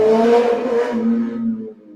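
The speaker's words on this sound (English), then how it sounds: "I just heard a car go by." Car driving past outside an open window, a loud close engine roar that swells and then fades away over about two seconds.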